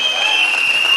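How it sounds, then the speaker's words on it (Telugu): Applause for Gautam Bali at a Vestige gathering: a steady, dense wash of clapping from a large audience, even in loudness through the whole second, with no voices standing out. "గౌతమ్ బాలి సార్కి ఒకసారి జోరు గల క్లాప్స్ ఇద్దాం బాలి గారికి"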